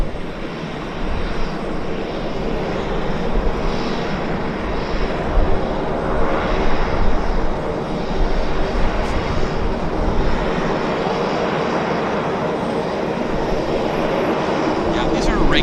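A King Air turboprop medevac aircraft taxiing at Vancouver International Airport, giving a steady, continuous engine drone throughout at moderate distance, with some talk over it.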